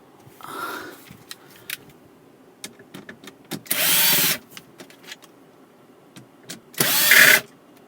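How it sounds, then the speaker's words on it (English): A power driver backs screws out of a cover on a Honda Accord, heard as two separate loud whirring bursts of about half a second each, with quiet clicks and handling in between. "After the cover is removed, remove the 2"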